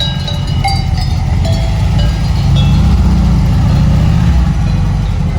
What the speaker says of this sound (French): Le moteur de coccinelle, je le reconnais au son.